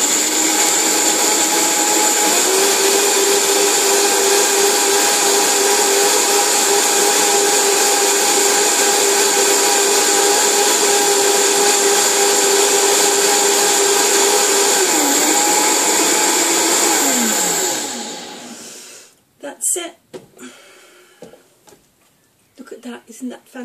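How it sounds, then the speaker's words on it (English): A kitchen blender grinding nuts for homemade nut milk runs loud and steady with a high whine for about seventeen seconds, its pitch sliding as it winds down and stops, followed by a few clattering handling sounds. "blend them up"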